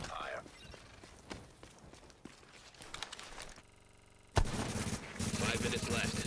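Gunfire strikes a fortification during an online shooter match, with bursts of shots and impacts scattered through the clip and a loud sustained barrage near the end, under occasional game announcer speech.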